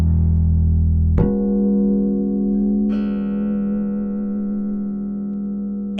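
Sustained bass guitar notes ring out with a bright pick attack, then one note shifts to a new pitch, played clean and loud up close with a long, even decay and no voices.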